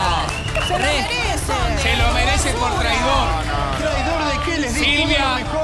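A noisy studio audience chatters and shouts over one another in a dense, continuous babble of overlapping voices that stays loud throughout.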